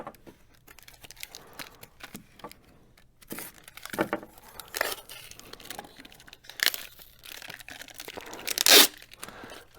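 Tape is torn and peeled off a mailed cookie package in short, sharp ripping bursts with crinkly pauses between them, close and fairly quiet, ending in one louder rip.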